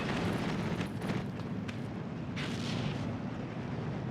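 Mortar fire and shell explosions in the tank battle game Steel Division 2 roll as dense, continuous low booms and rumbling blasts, with a couple of brighter cracking bursts standing out through a steady wall of combat noise.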